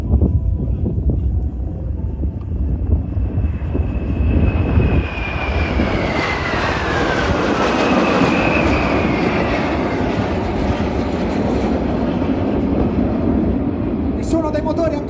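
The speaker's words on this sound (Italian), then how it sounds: "Il suono dei motori ancora nell'aria" A loud military jet engine roar builds and sweeps past nearby at an air show, its whine shifting in pitch as the aircraft passes, with wind rumble underneath.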